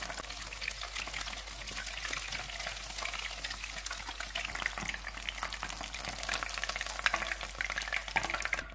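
Potato and chicken pakoras deep-frying in hot oil over a medium-low flame, a steady dense crackle and sizzle with bubbling throughout, close and continuous with no talk.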